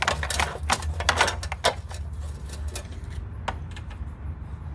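A wrench loosens a 10 mm bolt on the turbo heat shield of a Saab, making a rapid run of ratcheting clicks up close over a low hum, then a pause and one final click.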